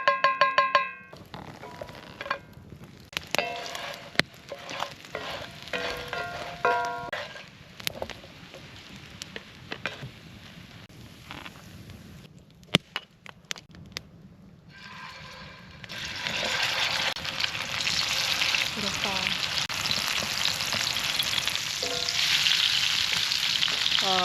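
Salmon roe patties frying in a pan over an outdoor wood fire on a winter day in Alaska, scattered pops and ticks early giving way to a loud, dense, continuous sizzle, no voices.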